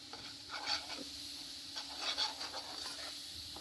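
A spoon stirs condensed milk into a mango laddu mixture in a pan, giving soft, intermittent scraping strokes that stay quiet and close.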